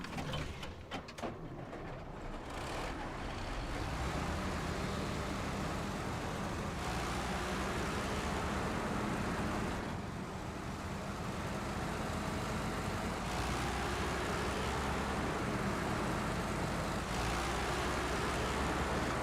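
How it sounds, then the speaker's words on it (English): Loud, steady engine drone of a truck in SnowRunner on the Don Region map, stopped at a garage, a continuous mechanical rumble with a faint rattle that holds without any talk. "Hey, this truck's too loud."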